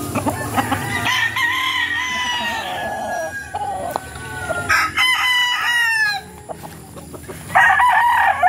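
Chickens cluck and call loudly at close range in bursts, with rising squawks and crowing-like cries, little or no talk.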